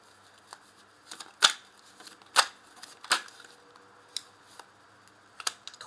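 Tarot cards being drawn and laid out on a table: a few crisp, separate snaps and slides of cardstock, close and fairly quiet, with soft taps between them.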